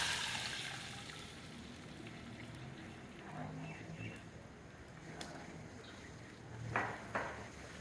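Water is poured into a pan of sautéed garlic, chilli flakes and salt, a faint sizzling splash and trickle under soft kitchen clatter, with brief knocks near the end.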